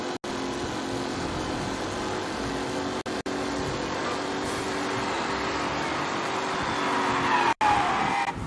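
A car in the Mafia Definitive Edition racing game brakes hard and skids, its tires squealing over a loud, continuous engine roar with a few brief dropouts.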